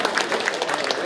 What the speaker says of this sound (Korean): 환영의 박수를 부탁드립니다